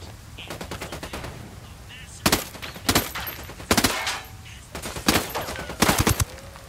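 Automatic gunfire in the video game Ghost Recon Wildlands, with rapid bursts cracking out in a loose rhythm, several louder volleys standing out over a steady din of combat.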